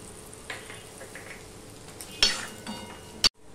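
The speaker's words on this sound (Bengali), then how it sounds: "এবারে এখানে আমি 1/2 চামচের মতন জিরের গুঁড়ো, ধনের গুঁড়ো আর একটুখানি লঙ্কার গুঁড়ো দিয়ে দিলাম" Cumin, coriander and chilli powders fry in oil for aloo jeera, a soft steady sizzle broken by a few close scrapes and clinks of a stirring spoon, ending with one sharp knock of metal.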